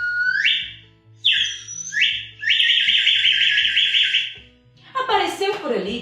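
Birdsong played during a children's story about a maned wolf in the cerrado: several bright whistled bird phrases come in bursts over a low background bed, ending with a busier, rougher chirping flurry.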